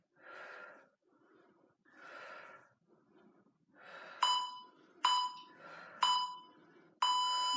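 Short electronic beeps from a HIIT workout interval timer ring out four times near the end, with heavy exercise breathing and snorts heard throughout.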